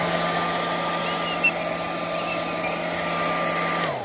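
A hair dryer blows steadily on wet alcohol ink artwork, a continuous close whooshing hum with an even tone that cuts off right at the end.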